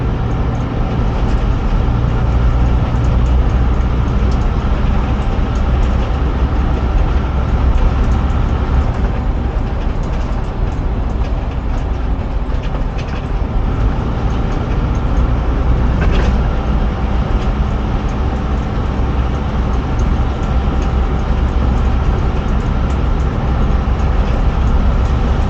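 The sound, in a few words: Bedford YMT bus with Duple Dominant II body driving, on board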